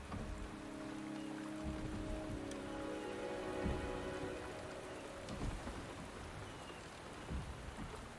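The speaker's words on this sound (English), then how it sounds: "The rain is subsiding," Video game rain falling steadily on surfaces in Wuthering Waves, with scattered drips and a faint low rumble beneath, continuous and fairly close.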